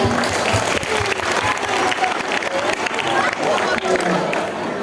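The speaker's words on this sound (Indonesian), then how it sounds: "Tepuk tangan untuk 3 kandidat." A school audience bursts into sustained applause for three student council candidates, loud dense clapping from many hands filling the room without a break.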